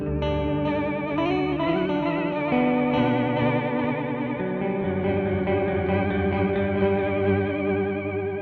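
Electric guitar run through an MXR Joshua ambient echo pedal with both controls cranked, a dense, sustained wash of chorused, distorted notes with stacked pitch-shifted echoes, loud and continuous throughout.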